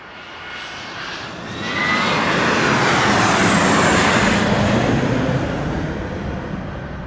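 A fixed-wing airplane taking off at Las Vegas airport, its engine roar swelling after a couple of seconds into a loud, steady rumble that slowly begins to fade toward the end.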